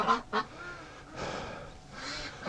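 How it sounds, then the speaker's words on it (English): Hungry breeding ducks in spring mud give two quick, close quacks, followed by rougher, noisier honking and quacking that rises and falls. "Well, we got some serious hungry ducks today."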